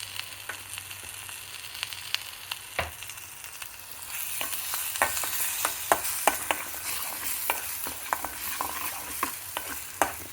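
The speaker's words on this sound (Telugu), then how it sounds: "కొంచెం నూనె పైకి తేలేంత వరకు వేయించుకోవాలి." Paneer tikka masala sizzling in oil in a pan, soft continuous frying hiss punctuated by sharp scrapes and taps of a spoon stirring, close and fairly quiet.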